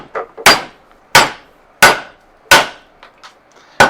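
Loud, close hammer blows strike a mower sickle bar to shear off its rivets, four or five sharp metallic impacts at an even pace with small taps between them.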